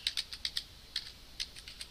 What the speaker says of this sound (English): So I type in localhost